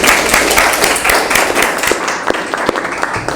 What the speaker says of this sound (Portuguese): Palmas para você.